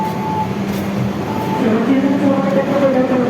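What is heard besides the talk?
trains passing at Wates station, Madiun Jaya and Pasundan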